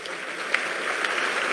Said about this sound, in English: You can clap hands now